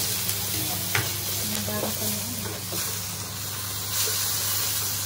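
Tomatoes sizzle and fry in a pan as a utensil stirs and scrapes through them, with a steady hiss close by and occasional soft clinks.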